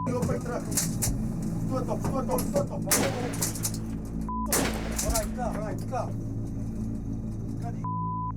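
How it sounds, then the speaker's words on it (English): Several sharp gunshots burst out at night amid a noisy outdoor scene, with people talking and shouting throughout and a short electronic tone twice. "Several gunshots rang out in the night."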